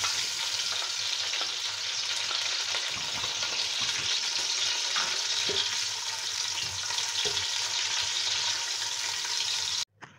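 Finely sliced onions sizzle and crackle steadily in hot oil as they brown, a dense frying hiss with occasional pops, continuous and close, ending abruptly.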